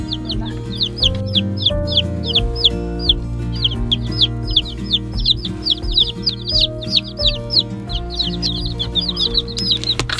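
Baby chickens chirp in repeated high, short peeps over a steady musical background, the calls coming in quick clusters throughout.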